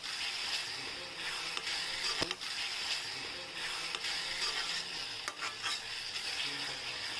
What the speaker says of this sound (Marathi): मिरची पण हे छान तेलामध्ये परतून घेऊया.